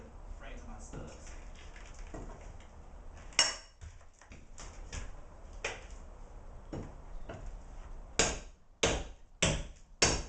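Drywall is torn out of a wall in a series of sharp cracks, snaps and crumbling thuds, loudest in a quick cluster near the end, while someone talks over the work.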